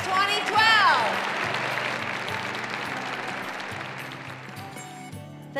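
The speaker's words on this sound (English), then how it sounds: "Let me hear a big cheer." Audience at a Top Companies for Executive Women celebration cheering and applauding, a loud crowd swell with whoops at the start settling into sustained clapping over a steady musical backing.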